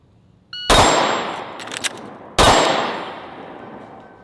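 Two sharp, loud pistol shots from a small concealed-carry handgun, roughly 1.7 seconds apart, each ringing off a steel target with a bright metallic clang and a long decaying tail.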